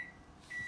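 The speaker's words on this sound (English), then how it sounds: "There's my microwave." A household microwave oven beeping, two faint, steady electronic tones, one short at the start and a longer one near the end, alone over quiet room noise.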